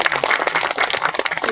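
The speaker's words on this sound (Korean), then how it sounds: "박정자 배우님께 다시 한번 큰 박수 부탁드립니다" An audience applauds actress Park Jeong-ja at the opening ceremony of a literary museum in Geochang, Korea: a brief, dense burst of many hands clapping at once, fairly loud and steady, with no voices over it.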